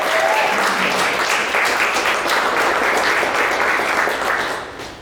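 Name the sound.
audience applause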